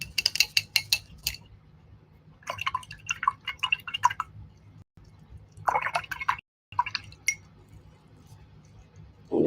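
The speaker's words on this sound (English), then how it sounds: "I'm going to wash my brush." An acrylic paintbrush is swished and tapped in a water container during a painting session, giving bursts of wet dripping and clinking against the container between short pauses, close and clear.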